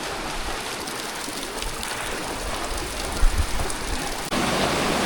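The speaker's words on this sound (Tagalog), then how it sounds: "Kahit walang ulan ay talagang dire-diretso ang tubig niya." Continuous broadband rushing of a park stream flowing steadily and close, with a brief bump partway through and faint birds in the background.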